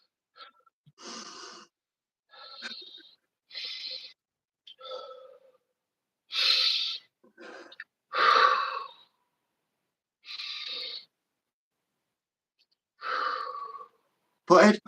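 Heavy, ragged breaths, sighs and gasps after a round of burpees, coming in separate bursts with short pauses between them, close to the microphone, ending in a sharp loud exhale.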